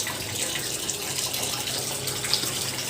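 Water running steadily from a tap into a container, collected for doing laundry, a continuous close splashing hiss with no talk.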